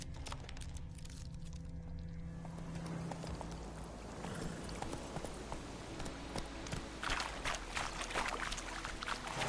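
Roach the horse's hooves clip-clop steadily across the ground in The Witcher 3, a regular mid-level rhythm over continuous ambient game background, with no speech.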